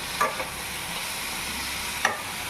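Small kachki fish frying in plain oil, a soft continuous sizzle with two brief stirring clinks, fairly close and quiet, no talking.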